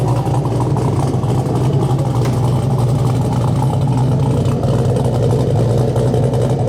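A Hyundai Genesis Coupe with an exhaust leak idles outside, a loud, steady, close engine rumble that holds without letup, with a faint rise or two in revs and no one talking.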